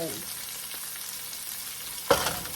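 Carrots fry in a pan with a steady, soft sizzle throughout, and a brief clatter of stirring or a utensil knock comes near the end.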